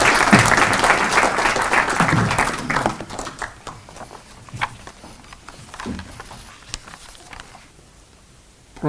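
Audience applause at a university professorial inauguration, sustained clapping for about three seconds that thins into scattered individual claps before dying away.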